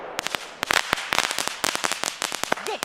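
Wet firecrackers explode in a fast, irregular string of loud, sharp cracks, a dozen or more packed into a few seconds, with a brief voice near the end.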